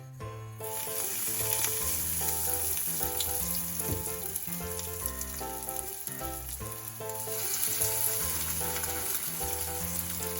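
Chicken breasts fry in hot oil in a pan over moderate heat, with a constant close sizzle under background music.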